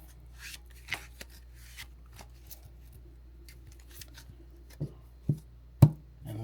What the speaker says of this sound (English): I'm going to wrap up the shuffle.